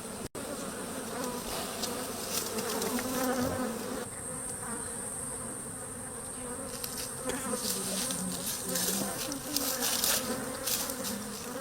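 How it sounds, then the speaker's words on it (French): Dense, steady buzzing of honey bees (Apis mellifera) swarming close by, a continuous loud drone that swells and shifts slightly in pitch throughout, with no voices. "Apis mellifera ou l'abeille à miel."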